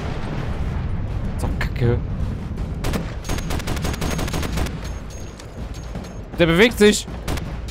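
Bursts of gunfire in the Crysis Warhead video game crack out in rapid volleys and single shots, close and loud, while someone talks over much of the action.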